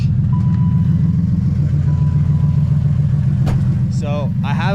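A BMW M52B28TU inline-six swapped into an E30 runs loud and steady at a low, even idle, unable to rev. Voices and a brief higher chirp come in over the engine near the end.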